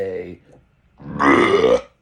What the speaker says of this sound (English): If you hate my belches, I don't know what the fuck to tell you.